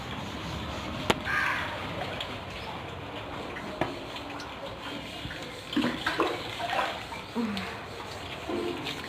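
Water splashes and pours in short, uneven bursts at a home after rain, with clunks and knocks from a container being handled nearby; voices speak intermittently over the sloshing.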